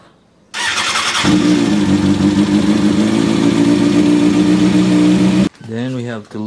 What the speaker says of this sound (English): First, we have to start the engine so the oil will be thinner